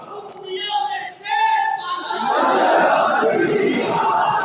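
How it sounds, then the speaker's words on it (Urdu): A large crowd at a religious political gathering shouts a slogan loudly in unison, first as a speaker's voice rises over it and then as a dense, sustained roar. "نعرہ ایک دفعہ لاؤ تو تگڑا لاؤ"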